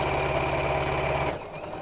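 A sewing machine stitches a seam close to the edge of a bag with a rattan handle, running with a steady mechanical hum and then stopping abruptly near the end.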